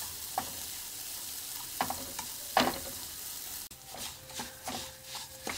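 Coarse soaked moong dal is stirred and roasted in ghee for halwa, a low sizzle under scattered scraping and crunchy stirring strokes, with a brief clatter and busier stirring near the end, close and fairly quiet with no talk.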